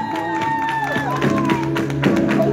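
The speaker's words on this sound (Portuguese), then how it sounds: "Palmas pra Márcia, pessoal!" A small gathering in São Bernardo do Campo applauds a woman named Márcia during a surprise message-car serenade, with scattered clapping and cheers beneath loud sustained music.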